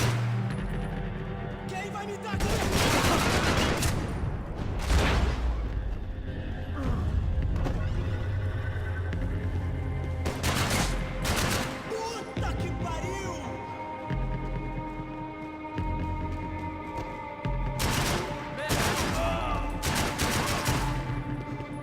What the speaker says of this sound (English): Fucking Max shooting up a wall.